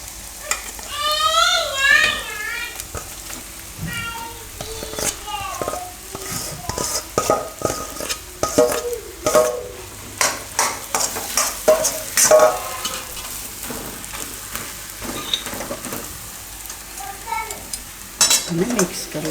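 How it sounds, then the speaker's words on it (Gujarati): Mashed potato gets stirred into spiced oil in a pan for bajra-potato parathas, the spoon scraping and clinking in uneven strokes over a steady close sizzle while a voice talks at intervals. "હવે આમાં આપણે આ માવો નાખી દઈએ બટેટાનો."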